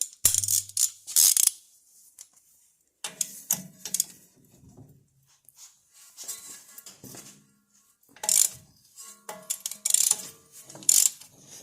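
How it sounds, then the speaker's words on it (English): A ratchet works a 19 millimeter bolt back and forth during a TeraFlex lift kit install on a Jeep TJ, with bursts of close, rapid metallic clicking separated by short pauses. "Kind of just work it back and forth here a little bit with a ratchet"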